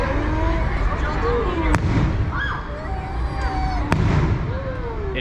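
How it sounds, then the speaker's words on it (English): Fireworks bursting over the Disneyland Resort at night, two sharp distant pops standing out against a steady crowd murmur with whistling tones and people talking nearby. "There's one firework."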